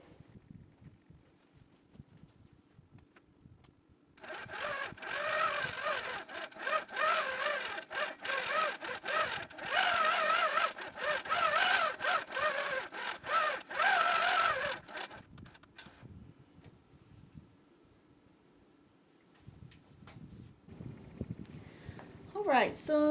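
A longarm quilting machine runs practice stitching, a steady mechanical hum that holds for about eleven seconds and then stops, leaving quieter room noise.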